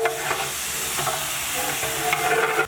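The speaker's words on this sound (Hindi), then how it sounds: "अब इन सारे मसालों के साथ चिकन को अच्छी तरह मिक्स करेंगे।" Chicken being stirred with spices in a cooking pot, with a steady sizzling, scraping stir running continuously and close up, and no one speaking.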